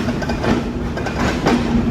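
The Rupsha Express pulls out of Noapara railway station, a loud continuous rumble of rolling carriages with faint clattering wheel rhythm and no voices.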